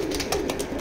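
A pair of pet pigeons coo in soft, rhythmic pulses close by, with no talk over them.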